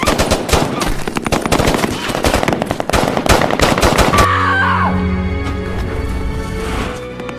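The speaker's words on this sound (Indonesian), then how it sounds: "Dua orang termasuk Lukas tumbang dalam baku tembak tersebut" Gunfire from a film shootout: dense, loud bursts of rapid automatic shots that cut off abruptly about halfway, leaving a quieter, more tonal background.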